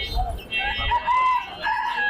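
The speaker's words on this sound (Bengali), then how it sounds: "ভাই এটা কি মুরগির বাচ্চা" Chickens, including chicks and a rooster, at a crowded chicken market in Mirpur, with several clucks and a crow-like call close by over a steady crowd murmur.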